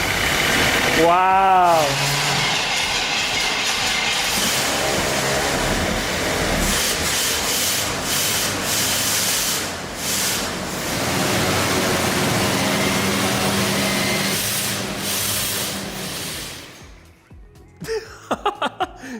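Long-dormant barn find Corvette Stingray cranks with a whining starter, then catches and runs with a rough, loud, steady engine roar, close by; a person exclaims briefly and clicks and clatter follow as the engine cuts off.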